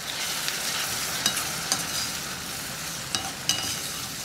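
Tomato puree with red chili powder and garam masala is stirred in a pan, giving a continuous close sizzle with a few soft spoon scrapes and taps and no talk.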